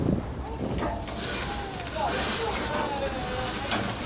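A steak flipped in a hot pan sizzles with a bright, hissing crackle that swells after the turn and stays steady, with a voice talking faintly over it.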